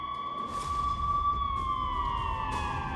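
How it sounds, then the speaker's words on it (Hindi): Emergency vehicle sirens from an air ambulance and fire brigade wail steadily across an airport runway, a loud continuous tone gliding slowly downward throughout, over low rumbling background noise. "रनवे पर एयर एम्बुलेंस, फायर ब्रिगेड के सायरन गूंजने लगते हैं।"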